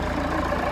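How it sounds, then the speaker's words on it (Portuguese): A Fiat Toro diesel engine idles steadily with the hood open, a continuous low rumble with even mid-range clatter, close and fairly loud, with no talk over it. "É aquele barulho do motor a diesel e o arranhado acabou."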